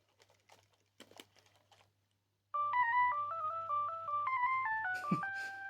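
A few soft clicks and taps, then a quick series of bright, beeping electronic tones playing a cheerful little melody over a low hum from a circa-2000 Sony Aibo 210 robot dog.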